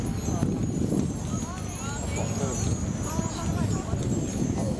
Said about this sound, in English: Stanley, our 2-year-old Shire Gelding, our beautiful Frisian